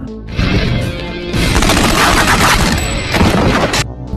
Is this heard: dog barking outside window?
no